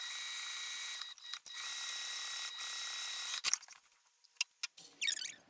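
A sewing machine runs steadily for about three seconds, basting stitches around the edge of a fabric backpack piece, pauses briefly, then stops, followed by a few light handling clicks.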